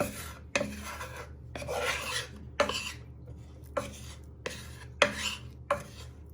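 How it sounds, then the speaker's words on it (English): A wooden spoon scrapes around a pan as butter melts, repeated rhythmic rasping strokes with sharp clicks against the pan edge, close and clear with no talk. "You're going to get a wooden spoon and you're just going to stir that so it all melts"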